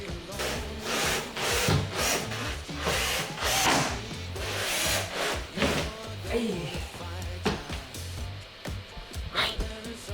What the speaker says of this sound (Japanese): これが最後のビス打ちです